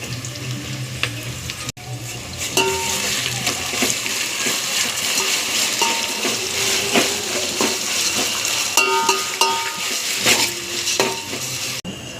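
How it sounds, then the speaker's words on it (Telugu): Ginger stirred and frying in a pan: a steady, close sizzle with repeated scraping and clinking of a utensil against the pan throughout. "అల్లం కూడా వేసేస్తాం"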